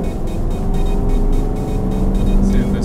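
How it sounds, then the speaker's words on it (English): A white car sweeping past a truck on its right side on a road in Niagara Falls, New York, a steady loud engine and tyre roar with a rushing swell of noise as it goes by. "See this white car on the right try to sweep past us illegally like an idiot."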